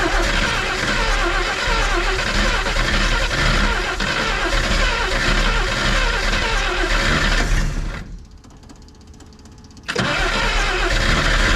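The engine of an AMC Rambler wagon left sitting for over 50 years cranks loudly and continuously for several seconds, pauses briefly, then cranks again without catching.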